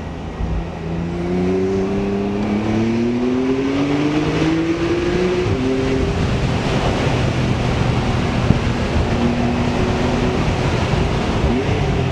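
A 420 hp Porsche 991 Carrera S drives along a road, its engine a steady rising and falling drone with audible gear-change steps, sitting under constant wind and road rush throughout.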